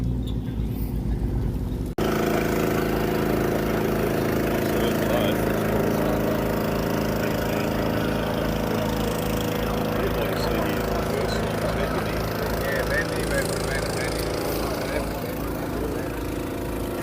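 A Nissan Patrol 4WD pulls in at a muddy off-road event, its engine a steady low rumble that starts abruptly after a short quiet moment and runs continuously near the listener, with people talking over it.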